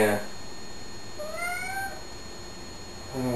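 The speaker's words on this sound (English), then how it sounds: "Oh, these cats are scaring me." A cat gives a single rising meow, mid-distance and fairly clear, with a voice heard briefly at the start and end.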